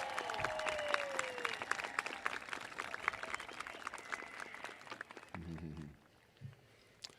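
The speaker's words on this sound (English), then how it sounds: "Please give them a well-deserved round of applause." Audience applause at a Greeley Central high school graduation ceremony honoring retiring educators, a steady wash of many hands clapping that fades out near the end as a voice begins speaking.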